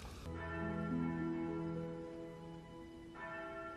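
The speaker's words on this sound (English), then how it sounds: "ringing the bell 5 times" A resonant bell rings out once and hums as it slowly fades, then is struck again shortly before the end.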